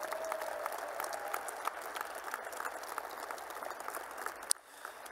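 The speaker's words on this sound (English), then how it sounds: "let's give a nice round of applause to all of our new inductees" Crowd applause for new inductees at the UB Athletics Hall of Fame Class of 2024 ceremony, a fairly faint, steady patter of clapping from a distance that drops off abruptly near the end.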